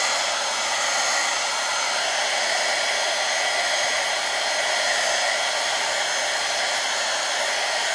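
Steady, loud broadband blowing of a heat tool aimed at gesso for mixed media art, running evenly and unbroken throughout with no talk.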